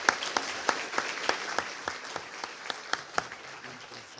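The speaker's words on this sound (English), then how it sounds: "So please show your round of applause for the panellists." An audience applauds the panellists at a citizens' assembly on drug use, a steady patter of moderately distant clapping with a few sharper individual claps standing out, lasting the whole stretch.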